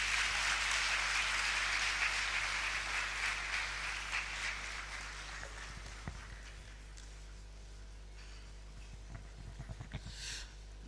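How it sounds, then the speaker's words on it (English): An audience at a financial economics seminar in Ghana applauds, starting loud and dense, then thinning gradually to scattered claps and fading away. "Another round of applause for GCB"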